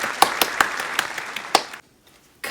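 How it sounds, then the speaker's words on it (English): A small crowd claps in scattered, uneven bursts for a couple of seconds before falling silent, with a new sound starting at the very end. "Wow, great performance. A round of applause."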